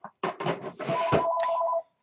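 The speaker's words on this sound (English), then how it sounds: "I make a video and then I get a phone call" A telephone ringing with an incoming call, a short electronic ring pattern of a few quick chirps followed by a sustained tone, close and clear with no talking.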